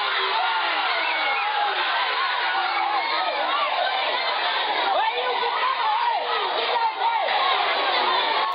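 Crowded school cheering sections roar with students shouting, chanting and whooping against a rival team, a dense continuous wall of young voices that stays loud and unbroken throughout.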